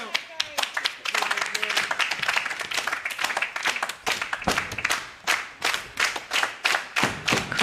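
Wrestling crowd clapping in steady rhythmic unison during an NWA women's match, loud and close, with a commentator's voice running over the claps.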